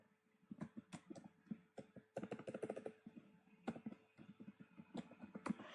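Someone typing a password on a standard computer keyboard, quick irregular bursts of close key clicks with short pauses between runs, quiet and with no talk.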